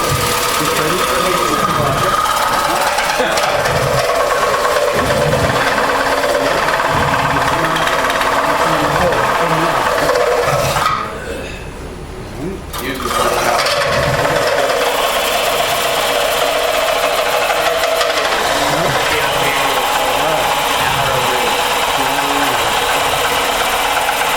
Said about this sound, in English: I'm going to widen the entrance hole just slightly here